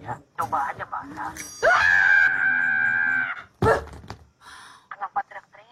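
A woman screams in a long, piercing, sustained cry that breaks off, followed by a short second shriek, loud and close, with talking before and after it.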